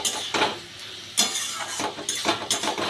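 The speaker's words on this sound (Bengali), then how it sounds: "দিয়ে একটু নাড়াচাড়া করে দিলাম" A spoon stirs crushed fried lentil dumplings into a pumpkin curry in a pan, giving a few close scraping and rustling strokes in short bursts, with no talking.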